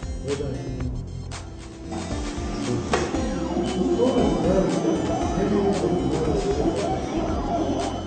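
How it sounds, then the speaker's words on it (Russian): A cutting plotter cuts film with a special needle, making a mechanical whir, repeated rhythmic clicks and sliding movements at close range. A person speaks over the machine. "Это графопостроитель, он же плоттер, режет пленку согласно заданному рисунку"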